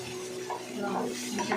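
A spoon scrapes and stirs chickpeas in a pan with a little water, soft repeated swishes and faint metallic knocks over a low sizzle, close and unaccompanied by talk.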